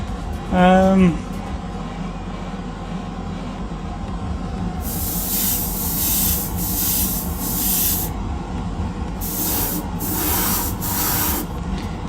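Airbrush spraying paint as a base coat on Greek style vases, heard in several steady hissing bursts of a few seconds each, separated by short pauses, over a low background hum, with a brief tonal sound near the start.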